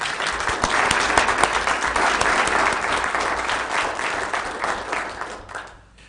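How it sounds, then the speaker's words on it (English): Applause from an audience at a county government meeting, honouring a man named Ricky, comes as sustained, dense clapping that holds steady for several seconds and then tapers off quickly at the end. "Let's give Ricky a round of applause, if you wouldn't mind."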